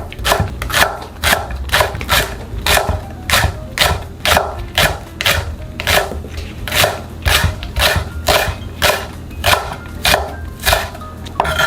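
A knife slices a green onion on a cutting board for Korean beef and radish soup, a brisk, even run of crisp chopping taps, close and loud, repeating steadily with no talk.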